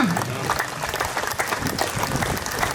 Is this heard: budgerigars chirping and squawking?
no